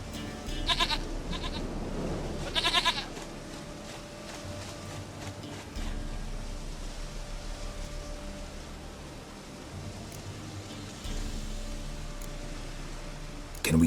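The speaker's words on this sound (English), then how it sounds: "Goat of mine, dearest," Goat bleats from The Witcher video game come in brief nasal bursts, two clear calls early and fainter ones later, set against steady ambient in-game background noise without speech.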